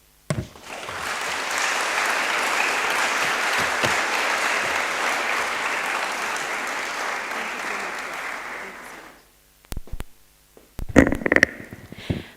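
An audience at a university language department anniversary colloquium applauds after a keynote, sustained even clapping that runs about nine seconds and stops abruptly, followed by scattered thumps and brief voices.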